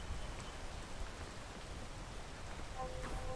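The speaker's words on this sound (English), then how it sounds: "Oh, but it's raining." Rain falls steadily in a video game, a soft, continuous hiss of rain, faint and even throughout, with a brief tonal blip near the end.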